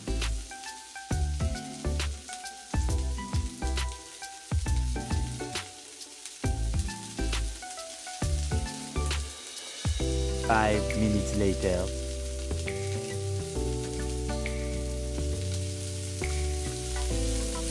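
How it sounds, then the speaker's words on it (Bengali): Oil sizzles steadily in a pan as chopped onions fry, with clattering stirring and scraping in the first half, then settles into a continuous, loud frying hiss. "এরপর পেঁয়াজ কুচি দিয়ে পাঁচ মিনিট ভেজে নেব"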